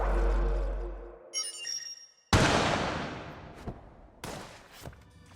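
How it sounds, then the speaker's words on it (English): A single sharp gunshot cracks out in the game Enter the Gungeon as the player character dies, following a low rumble that fades, with a few softer thuds and chimes trailing in otherwise near silence. "It's perfectly quiet except for that gunshot."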